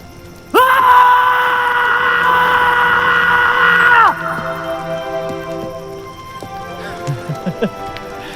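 Loud sustained scream from people in a dramatic Hindi film scene, a long piercing held cry lasting several seconds, then fading into softer voices and music-like tones.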